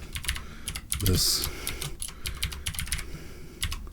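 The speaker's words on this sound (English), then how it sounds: "Hard typing around the mic." Rapid clattering keystrokes on a keyboard, close and fairly loud, with a brief spoken word partway through.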